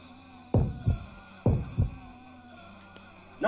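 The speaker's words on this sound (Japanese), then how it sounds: "なんか心臓の音もなんか迫力増したね" Heartbeat in the horror video game Yomawari 3, loud deep lub-dub pairs repeating twice at a slow, steady pace over a low hum.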